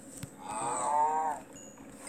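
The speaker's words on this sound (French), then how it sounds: "Ils ont un drôle de bruit, les vaches." A single drawn-out cow moo from the Minecraft video game, close and clear, swelling and fading over about a second with faint clicks around it and no talk.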